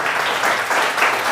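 A tech conference audience gives a round of applause before a talk: dense, even clapping from many hands, loud and sustained through the whole short stretch, with no voice over it.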